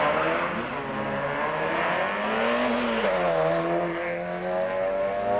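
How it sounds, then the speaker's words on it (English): A Conquest rally car races flat out on a rally stage, its engine droning loudly and steadily, rising and falling in pitch as it shifts gears, with no voices over it. "The Conquest sounds and performs as if this was the first stage of the event"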